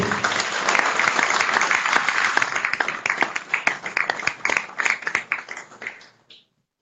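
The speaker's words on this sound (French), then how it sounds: "j'aimerais vraiment un peu d'applaudissements pour lui" A crowd at a regional cycling committee general assembly applauds steadily, dense clapping that thins into scattered individual claps before fading out.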